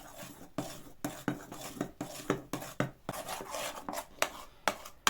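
A spoon clinks and scrapes steadily against a bowl, stirring a thick apple cake batter in quick, repeated strokes, close and fairly quiet.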